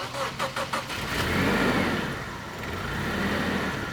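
An old car's engine cranks a few times in quick bursts, then catches and runs with a steady, fairly loud rumble.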